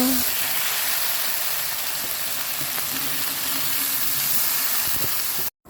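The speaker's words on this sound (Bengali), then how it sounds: "আমি এখানে মশলা কষিয়ে নিয়েছি মাংস রান্না করব" Meat cooks in a pan with spices that have been fried down, giving off a steady, close sizzle and hiss that runs on without a break before cutting off briefly at the end.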